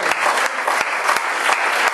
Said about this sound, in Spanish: es un aplauso de victoria.